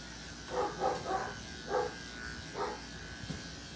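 Faint, muffled dog barks from another room, a few short bursts spaced over several seconds against a low background hum.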